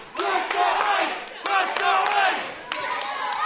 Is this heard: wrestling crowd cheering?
yes